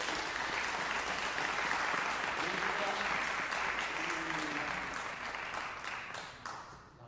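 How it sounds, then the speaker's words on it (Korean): An audience claps at the opening of a lecture, a dense, sustained round of applause lasting several seconds that gradually thins and tapers off near the end. "큰 박수로 부탁드리겠습니다"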